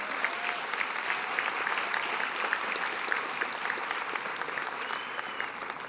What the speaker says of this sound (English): It's okay, you can clap, it's all right.